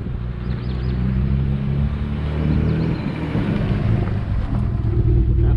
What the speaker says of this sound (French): Ça accélère trop fort.